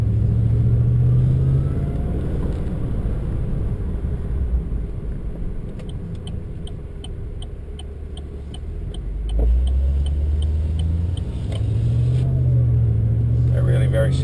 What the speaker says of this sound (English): let's take this VF Calais, the Eaton M1900 or the Magnuson 1900 supercharger system for a road test so you can see how it behaves.